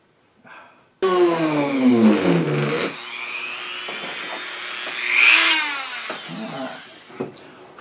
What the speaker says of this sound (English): I'll mark the holes here so I can drill some pilot holes.